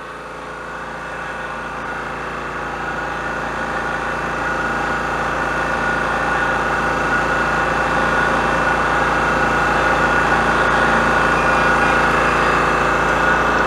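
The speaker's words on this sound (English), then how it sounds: "sorry about the noise with the compressor" A steady mechanical drone of an air compressor running continuously, loud and close, slowly building slightly in level with no talking.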